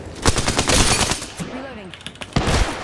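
Close, loud automatic gunfire in Apex Legends comes in rapid bursts. A brief lull with tonal effects follows, and then the firing resumes.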